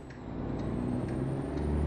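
A heavy truck in American Truck Simulator hums with a low steady engine drone that slowly builds, punctuated by a few faint hissing air-brake puffs; no talking.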